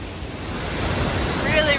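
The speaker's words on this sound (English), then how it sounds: "Really, really close to this waterfall here." A waterfall at Agua Azul roars as a steady broadband rush of falling water, close and loud, with wind buffeting the microphone and no clear voices over it.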